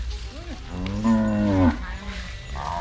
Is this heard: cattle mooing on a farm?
yes